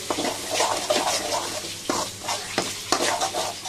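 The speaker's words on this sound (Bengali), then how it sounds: "দিয়ে দেব 1 চা চামচ বিরিয়ানি মশলা, ভালো করে কষিয়ে নিব।" Duck meat with biryani masala is stir-fried over a loud, near sizzle, with repeated brisk spatula scrapes and clacks against the pan.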